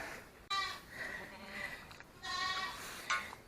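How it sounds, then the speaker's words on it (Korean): Goat bleating repeatedly on a small farm while being given diarrhea treatment by mouth, the calls loud and close, coming in several wavering cries separated by brief pauses. "염소를 잡아왔습니다."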